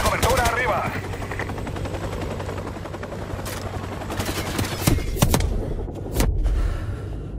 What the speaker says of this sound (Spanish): Ese helicóptero va a hacer otra pasada,